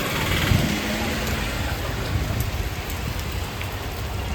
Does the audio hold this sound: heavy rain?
yes